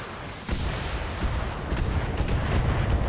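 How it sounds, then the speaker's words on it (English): Heavy mech weapons fire booms in a BATTLETECH battle, a sudden loud blast followed by continuous rumbling impacts. "Oh no, he's shooting at me."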